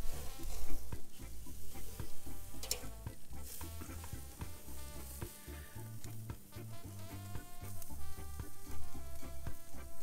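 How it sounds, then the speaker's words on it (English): Pork tenderloin searing on a Weber kettle grill, giving a steady, close sizzle and crackle of fat that runs the whole time, with occasional brief clinks and scrapes. "Let's get the tenderloin on and start the sear."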